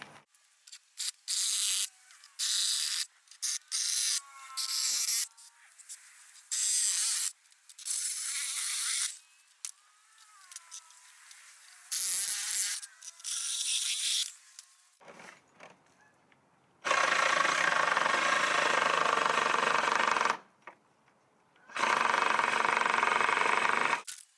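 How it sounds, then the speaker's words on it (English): A Ryobi One+ anti-vibe reciprocating saw, model P514, cutting an 8-foot wooden skid: repeated loud bursts of buzzing motor and blade, short stop-start cuts early, then two longer sustained cuts, with quiet gaps between. "The first thing I'll be cutting is this 8-foot skid."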